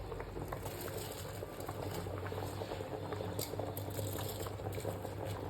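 Chicken and water boiling in a pot for homemade chicken biryani, a steady close bubbling and popping simmer that runs unbroken and fairly quiet throughout, with no voices.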